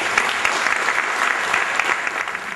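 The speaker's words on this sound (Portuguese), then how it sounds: "Aplaudimos Margarida de Fines Barros." Audience applause at an evening Father's Day ceremony, a sustained, even roar of many hands clapping that stays dense and steady from start to finish.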